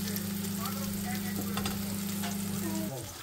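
Noodles with egg, broccoli and onion fry in a pan with a loud, continuous sizzle that holds steady over a constant low hum, then eases slightly near the end; nobody talks.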